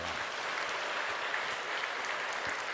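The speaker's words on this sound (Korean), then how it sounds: "우리 하나님 앞에 감사 박수요." A church congregation at a Sunday service breaks into steady, even applause, a dense wash of clapping from many hands heard at a distance and fairly faint, with no one talking.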